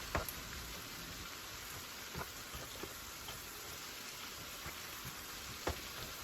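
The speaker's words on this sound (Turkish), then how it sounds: "Evet, ıspanakları hızlı bir şekilde karıştırıyorum." Spinach fries with onions in a pan with plenty of olive oil while being stirred quickly over high heat, giving a steady soft hiss with occasional light clicks of the utensil and no talk.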